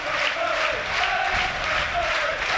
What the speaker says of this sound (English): Crowd found the voice.